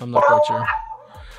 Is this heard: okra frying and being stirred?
no